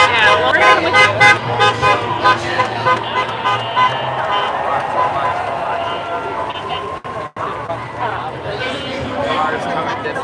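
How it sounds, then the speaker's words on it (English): Cars pass along a city street during a No Kings protest in Orlando, with a loud horn tooting repeatedly at the start over crowd noise and people talking nearby. "Cars coming this way."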